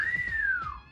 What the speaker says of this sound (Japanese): ここは最後口笛で。